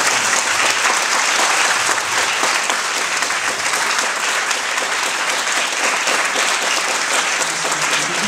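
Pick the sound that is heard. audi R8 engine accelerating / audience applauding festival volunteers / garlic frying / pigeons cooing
audience applauding festival volunteers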